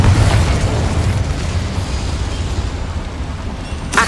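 A Confringo fire spell bursts in Hogwarts Legacy, giving a loud, sustained rumbling blast with crackling debris that fills the whole moment, ending in a sharp burst at the close.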